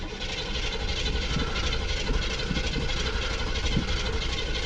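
An old carbureted Chevrolet Impala engine, about twenty years old, cranks steadily and keeps trying to start without catching, a continuous dense rumble under faint periodic starter pulses, with no talking.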